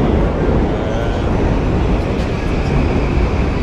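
Loud, dense rumble of a crowded Tokyo metro station, with train noise and a steady wash of crowd din filling the space throughout.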